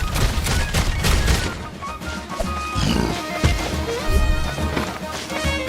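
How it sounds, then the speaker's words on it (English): Cannons boom repeatedly during ship combat against enemy vessels in a Nintendo Switch action RPG, with heavy impacts and crashes layered over busy game music and effects. "New to this third game is ship combat, where you fire cannons at enemy vessels and board them for treasure."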